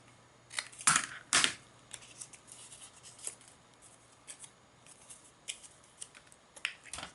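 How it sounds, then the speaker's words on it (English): Scissors trim material at a clockmaker's workbench, giving two sharp, close snips near the start followed by fainter scattered clicks and handling noises over a quiet background. "need to trim this off again"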